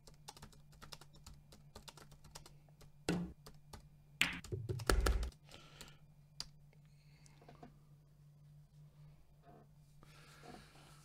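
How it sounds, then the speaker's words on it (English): Rapid clicking of keys on a computer keyboard, close and fairly quiet, with a few louder thumps and scrapes in the middle before the tapping thins out. "That's the wrong bloody thing I'm typing in."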